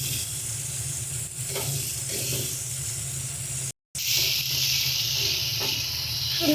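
Spice paste for a pointed gourd curry fries in a pan, a loud, steady sizzle and hiss that runs throughout, with soft scraping stirs and one momentary break.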